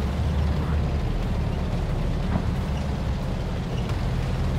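Smoke grenades launching from a tank in the PC game Gunner HEAT, a dense rumbling whoosh of bursts that stays steady and loud throughout, with no voices.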